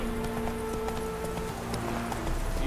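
Horse hooves clip-clopping steadily in The Witcher 3 during a horse race, a continuous galloping rhythm over a steady background drone, with no talk.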